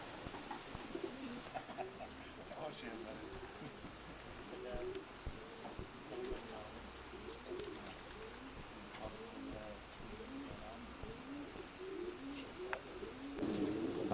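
Racing pigeons coo softly in a loft, low repeated throaty calls layered over a steady murmur of background noise, with occasional faint chirps and rustles throughout.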